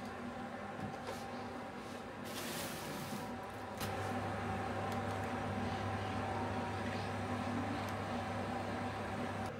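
A microwave oven hums steadily through a metal-melting burnout, a constant droning whir with a faint electrical buzz that steps up slightly louder partway through, no voices.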